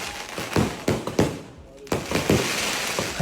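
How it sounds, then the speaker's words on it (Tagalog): Fireworks crackle and pop in a played-back video, a string of bursts with a short lull before they resume, with faint talk underneath. "Taray, may fireworks."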